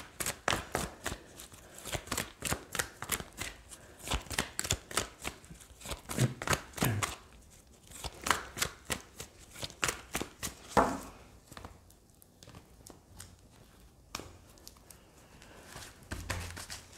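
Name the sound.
handling and shuffling cards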